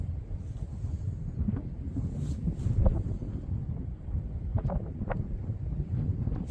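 A strong southwesterly wind blows on the rocks at a fishing spot, rumbling heavily across the microphone in steady, low buffeting gusts, with a few faint clicks and no speech.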